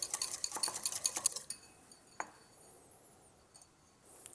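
Salt and white pepper mixed in a bowl with a metal utensil, a quick run of rapid clinking scrapes that stops, then a single clink and quiet light taps.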